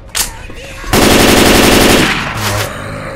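Gunfire in the video game Left 4 Dead 2: a couple of short, sharp shots, then a dense sustained burst of automatic fire lasting about a second, followed by one more brief shot.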